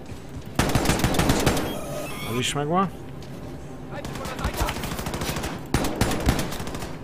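Rapid automatic weapon fire in Wolfenstein II comes in bursts, sharp and fairly loud, with a mechanical warbling effect between them and someone talking over the gameplay.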